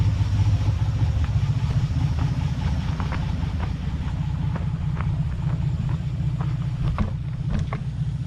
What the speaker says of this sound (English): First time driving my 54 Chevy Bel Air.